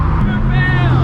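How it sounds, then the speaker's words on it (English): Turbochargers on a twin-turbocharged Lamborghini Huracan with a titanium exhaust spool up, a rising whine over a loud, steady engine drone, with a voice talking close by. "You can hear those turbo spooling."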